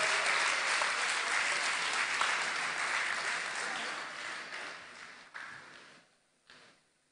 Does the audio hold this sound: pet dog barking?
no